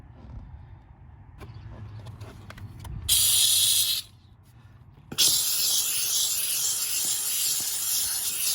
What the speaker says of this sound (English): Using the steamer is just like it's so easy to clean.